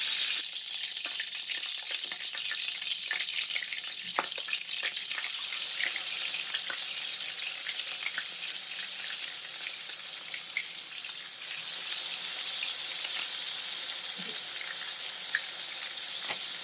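Chicken searing in a pan over medium-high heat for crispy skin gives a steady, close hiss of frying fat with small pops and crackles, continuing unbroken throughout with no voices.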